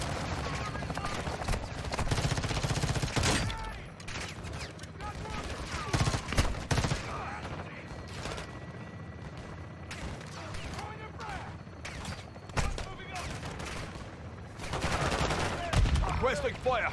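Sustained bursts of belt-fed machine gun fire in Call of Duty: Modern Warfare II, loud and dense, with short pauses between volleys and a heavy final burst, under game sound effects and radio-style voices.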